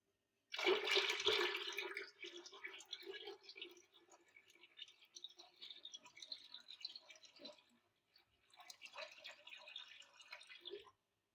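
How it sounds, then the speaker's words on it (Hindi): Water is poured into ground yogurt for kadhi pakora, starting with a strong splashing burst, then continuing as softer stirring and trickling sounds, with a brief pause before another round of liquid sloshing. "अब हम इसके अंदर पानी डालेंगे,"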